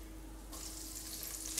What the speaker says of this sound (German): So, stellen wir die Pfanne auf den Herd. Und geben wir den Stückchen Butter da rein.